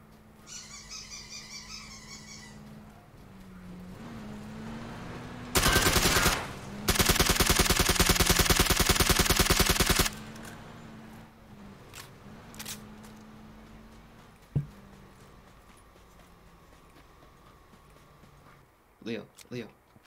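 Rapid automatic gunfire from a shooter video game, two loud sustained bursts of several seconds each, followed by a few single sharp shots, under excited talk from players.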